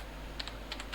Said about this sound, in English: Now I am going to type Tourist Places of